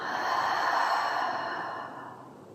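One long, deep exhale through an open mouth during a breathing exercise, breathy and close, fading out gradually over about two seconds.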